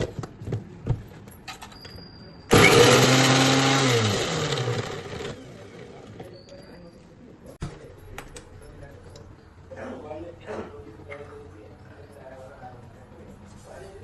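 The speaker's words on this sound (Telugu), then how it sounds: "ఇప్పుడు మిక్సీలో వేసుకొని" A kitchen mixer grinder whirs loudly for about three seconds while grinding gooseberry pickle ingredients with salt and chili powder, then winds down, with talking and light handling noises before and after.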